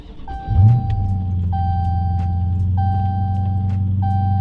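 A Dodge Charger or Challenger engine cranks and catches, settling into a steady low idle rumble, while a repeating electronic chime beeps at regular intervals over it.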